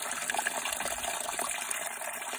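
Water runs steadily from a pipe at a house under renovation in Bulgaria, a continuous bright hissing gush at moderate loudness with no voices.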